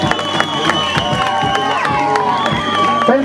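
A crowd at an amateur K-1 kickboxing tournament in Hîncești, Moldova, claps in a steady rhythm for a young fighter, with music and voices blending underneath.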